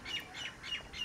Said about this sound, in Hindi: देखो कोयल भी बोल रही है।